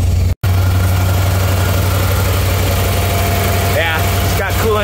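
A 1987 C4 Corvette engine idles steadily after starting, a loud constant low hum with a brief dropout near the start and some higher chirping noises toward the end.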